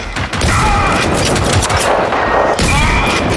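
Dense, continuous automatic gunfire from the video game Generation Zero, a loud sustained rattle of rapid shots with brief dips, filling the whole stretch without talk.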